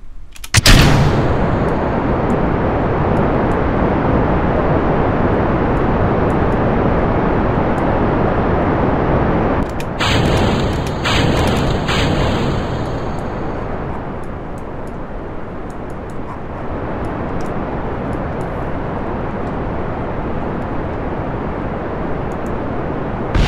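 Rocket launch in the video game Kerbal Space Program, a sudden loud ignition followed by a steady, powerful roaring rumble that holds for many seconds with a few crackling bursts before easing slightly.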